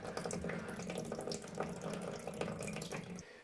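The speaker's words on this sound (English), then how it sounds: "Just keep draining it." Water draining from a car radiator during an emergency leak repair, a steady splashing gush that runs continuously before stopping abruptly at the end.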